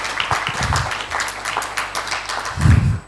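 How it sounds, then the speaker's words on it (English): An audience at a tech leaders' panel discussion applauds the panelists, a moderate patter of clapping hands running steadily throughout, with a muffled low thump near the end. "give a big round of applause for our panelists as well as yourselves"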